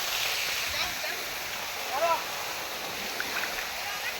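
Kudali waterfall rushes in a steady broadband hiss while people bathe in its pool, with faint splashes and a brief high squeal or whistle over the water noise.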